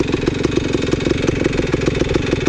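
A motorcycle engine idles loud and close on a small throttle opening, with a rapid, even, steady pulse throughout and no voices, at Henderson Flats, Oregon.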